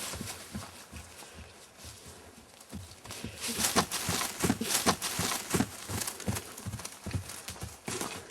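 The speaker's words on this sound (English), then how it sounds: "First of all, I'm going to do it with Dolly, to show how easily she'll go into trot, and then faster and faster." A horse's hooves clip-clop on the ground, starting at a walk and then breaking into a faster trot. The beats are close and loud, quickening in a steady rhythm, with no talk over them.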